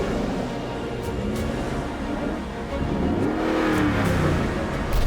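A heavy Mercedes G-Wagen, about three and three-quarter tons, climbs large sand dunes, its engine droning steadily and then revving and rising in pitch as it powers upward, loud and close throughout.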